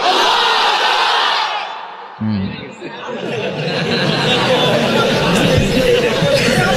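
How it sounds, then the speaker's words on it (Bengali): A large crowd at an Islamic sermon chants takbir in unison, a loud roaring collective shout that rises after a brief pause and stays sustained, dense and reverberant. "তাকবীর দাও, লিল্লাহি তাকবীর।"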